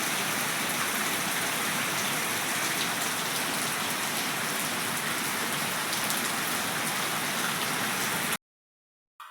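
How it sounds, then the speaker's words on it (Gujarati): Heavy rain pours down steadily on a farm, a dense and loud continuous hiss that stops abruptly near the end. "વરસાદ જે હજી ઠમ ચાલુ જ છે"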